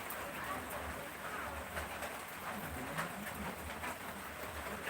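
Steady heavy rain hisses and patters continuously, with a low rumble underneath and no clear talking.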